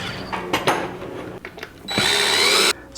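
A power drill whirs in short bursts with brief pauses as it drills through clear resin, then runs in one longer, higher-pitched stretch before cutting off abruptly.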